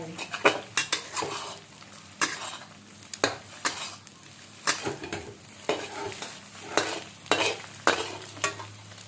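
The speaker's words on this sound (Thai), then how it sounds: "เราจะชอบผัดไข่ให้แห้งก่อนนะคะ ค่อยใส่ข้าวลงไป" Eggs are stir-fried in a pan for Thai fried rice: a spatula scrapes and clanks against the pan in a quick, repeated rhythm over a continuous sizzle, close and fairly loud, without speech.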